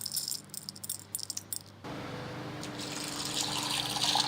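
Water runs steadily into a bowl of dried, skinned and halved yellow split peas for overnight soaking, a continuous splashing fill that starts abruptly after a brief rattle and swells slightly louder as it goes on, with no talking.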